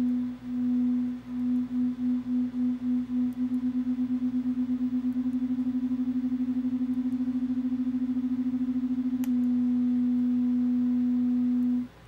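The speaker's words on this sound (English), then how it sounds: "It's this phase cancellation and phase addition that gives us a beating sound." Two slightly detuned sine waves produce a steady, loud low tone that pulses in and out. The beating starts slow and speeds up until it becomes a fast flutter, and then a second faint tone joins near the end.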